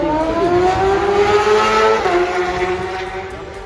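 Team Classic Suzuki Superstock racing motorcycle passing on Glencrutchery Road at the Isle of Man TT, its loud high-revving engine holding a steady pitch, then dropping sharply as it goes by.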